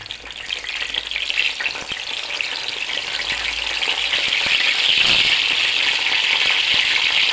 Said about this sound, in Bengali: সেই কারণে আমি একটা ফ্রাই প্যানেই বেগুনগুলো ভেজে নেব।